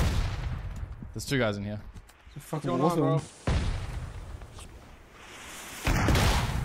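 Mortar fire and explosions in the battle royale game PUBG, dense booming and crackling bursts that return loudly after a gap, with excited voices talking over them.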